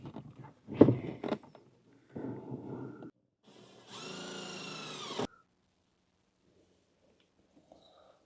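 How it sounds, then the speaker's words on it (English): A power driver whirs in short bursts as it sets self-tapping screws into a Vintage Air in-cab unit bracket in a bagged 1966 Chevrolet C10, with a louder, higher-pitched run near the end and then quiet. "You hold the bracket up, and then you self-tap it with 2 self-tapping screws up top."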